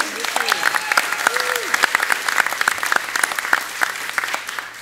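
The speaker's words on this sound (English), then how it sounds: "So please give a round of applause for Nikki Patterson." Applause from an audience at a Santa Cruz winemaking event greets Nikki Patterson, a steady patter of many hands with a few sharper claps standing out, and a voice speaks over it.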